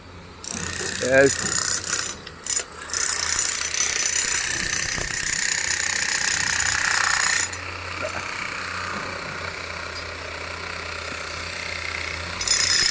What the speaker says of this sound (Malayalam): പൈലിംഗ് ജോലി കഴിഞ്ഞിട്ട് അതിൻ്റെ പൈലിംഗ് ക്യാപ്പ് വാർക്കാനായിട്ട് മോൾ ഭാഗം കട്ട് ചെയ്യുന്ന ജോലികൾ ഇവിടെ നടന്നുകൊണ്ടിരിക്കുന്നു